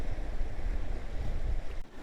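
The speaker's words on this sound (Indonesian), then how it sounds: "Ombaknya juga lagi bersahabat banget, nggak besar." Gentle, small ocean waves wash steadily at Pantai Cilegok beach in Ciletuh, Sukabumi, a continuous low rumbling surf mixed with wind noise on the microphone, with no talking.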